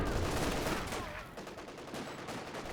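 Light machine gun fire from LMG Grenadier squads in a real-time strategy game match, loud dense bursts rattling continuously and fading slightly, with a commentator's voice faintly beneath.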